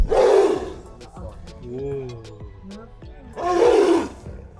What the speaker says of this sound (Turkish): Hemen yanımızda bir kaplan var.